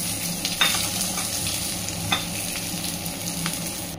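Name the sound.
whole spices tempering in hot oil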